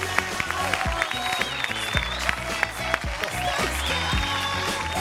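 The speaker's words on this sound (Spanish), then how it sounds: "vamos a presentar ahí con un fuerte aplauso el señor Sergio Oveja Hernández." An audience claps and cheers loudly and steadily, with crowd noise throughout.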